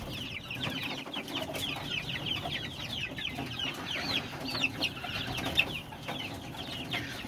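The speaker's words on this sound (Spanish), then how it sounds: "Los otros pollos están gorditos y saludables" Flock of young chickens in a coop clucking and peeping continuously, many overlapping chirpy calls at close range over a steady low background rumble.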